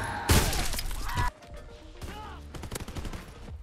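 Rapid bursts from a GPMG light machine gun in Call of Duty WW2, loud and dense for about a second, then sparser shots and impacts with game effects.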